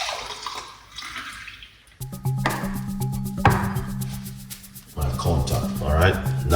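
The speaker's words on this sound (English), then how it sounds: "Now we're going to pour it out." A homemade drink is poured out into a container, giving a splashy, gurgling liquid stream that starts after a short pause and continues close by in bursts.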